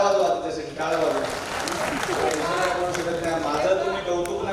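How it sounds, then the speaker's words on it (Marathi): An audience at a Voice of Media members' gathering bursts into sustained applause, a dense clapping wash heard through a loud voice speaking over the crowd. "त्याच्यासाठी टाळ्या वाजवा"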